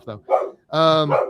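A dog barks several times indoors, loud and close, in short bursts with a longer, tonal bark near the end, while someone talks briefly over it.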